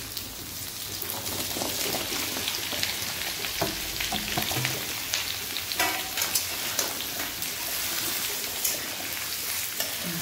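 Vegetables hit a hot pan for sambar and fry with a dense, steady sizzle and crackle, close and continuous, with occasional stirring scrapes.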